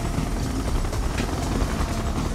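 Siege chopper helicopter from the strategy game Red Alert 2, a dense, steady whirring rotor roar that fills the whole stretch loudly and close, with no voices over it.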